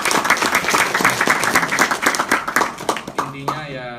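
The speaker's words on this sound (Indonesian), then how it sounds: "saya tepuk tangan aja untuk Pak Chandra sama Pak Vino" An indoor office audience applauds, with dense, lively clapping that fades out near the end as a voice begins speaking.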